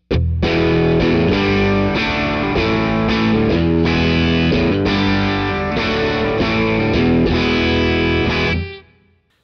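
An electric guitar plays through a Wampler Thirty Something pedal set to its 30 mode into a Deluxe Reverb amp. It gives a loud, driven run of strummed chords with a rhythmic pattern, then cuts off and rings out near the end.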